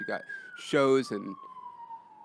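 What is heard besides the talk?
police sirens in Koreatown street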